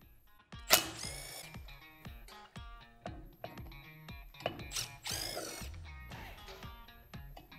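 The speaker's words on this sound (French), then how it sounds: "sur ce capot de protection ici, il y a quatre boulons que je vais enlever" Bolts being removed from the protective cover of a Deleks flail mower with a power tool: a series of short mechanical bursts and ratcheting clicks, with a few sharp metallic knocks, close and fairly quiet, no talk.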